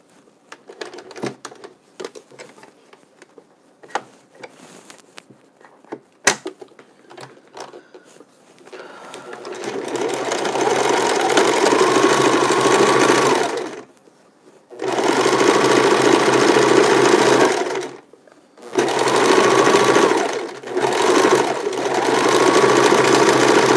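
A sewing machine zigzag-stitches mittens made from wool sweaters, starting with scattered clicks and taps, then running in loud sustained whirring bursts broken by brief pauses.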